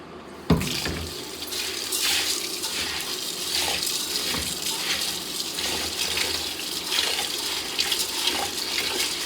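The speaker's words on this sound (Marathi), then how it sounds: "दोनदा-तीनदा चांगले धुवून घ्यायचे तांदूळ" Tap water runs steadily into a sink while a kilo and a quarter of biryani rice is washed, a continuous close splashing gush with faint shifts as the grains are rinsed, no voices.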